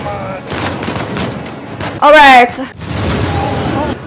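Explosion and gunfire in the Uncharted action video game, a loud burst of blasts and rapid shots lasting about half a second in the middle, with people talking before and after it.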